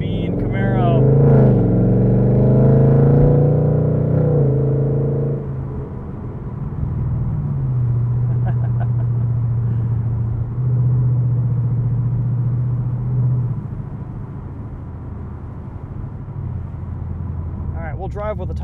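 A modified 2017 Chevrolet Camaro SS convertible V8 drives with a steady, loud low engine drone that rises and falls through shifts, with someone talking over it near the start.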